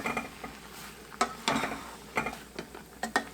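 Pink peanut patty peanuts in a sticky, nearly dry coating are stirred in a pan, making irregular scraping and rattling bursts of nuts over a faint background sizzle, close and without speech.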